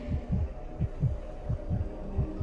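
A slow, steady heartbeat thumps in a video game scene, each beat a deep double pulse, close and muffled, repeating about seven times in under two and a half seconds with no talk over it.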